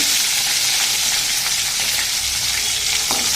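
Garlic sizzles hard in a hot pan with fenugreek seeds, mustard seeds and curry leaves. The bright hiss of frying is loud and constant throughout, with a few faint stirring scrapes and no talking.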